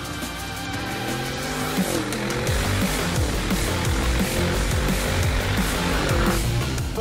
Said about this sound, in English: a listen to that glorious V8 as well, the 4 liter Biturbo bi-turbo V8